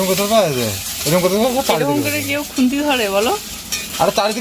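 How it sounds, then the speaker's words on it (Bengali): An egg sizzles and crackles steadily in a hot pan while someone talks continuously over it. "এখন ডিমটা ভাজা করবে"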